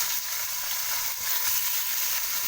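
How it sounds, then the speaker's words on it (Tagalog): Fish with broad heads drop into a hot, salted pot for a broth, setting off a continuous close sizzle and crackling hiss that stays loud throughout. "Then, ihulog natin ang isda na malalapad ang ulo,"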